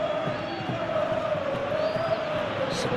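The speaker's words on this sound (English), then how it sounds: "the crowd are reacting to that now" Stadium crowd in a PES football video game reacting during a Real Madrid vs Elche match, a dense sustained roar of many voices with a rising chant-like tone that stays loud throughout.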